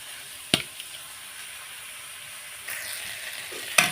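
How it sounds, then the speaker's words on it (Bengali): Ginger and chopped potatoes fry in a pan with a soft, steady sizzle, broken by a few sharp clicks and scrapes of stirring, with no talk. "বেশ ভালো করে আদা ভাজা করে নেব, তারপরে আলু কুচানোগুলো দিয়ে দেবো।"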